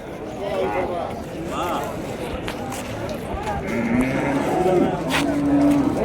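HF and Jersey dairy cattle moo at the Vaniyambadi cattle market, with drawn-out calls rising toward the end over busy market noise and people talking nearby.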